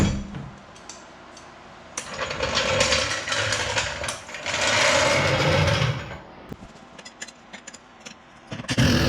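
Bolts tightened while a lift kit goes onto a UForce 1000XL UTV, heard as bursts of rapid, buzzing ratchet or power-tool whirring. The bursts come in close, loud stretches between short pauses.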